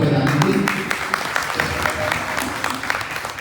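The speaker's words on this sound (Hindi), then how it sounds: "आप अपने लिए जोरदार ताली बजा लीजिए" Lively audience applause at a Bhagavat Katha religious gathering, continuous crowd clapping throughout with a voice faintly audible at the start.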